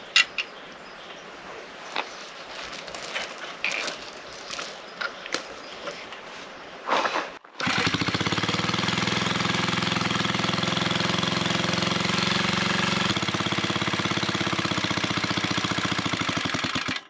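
A small engine sputters and coughs a few times, then catches and runs loudly at a steady, rapid chugging idle that keeps going to the end.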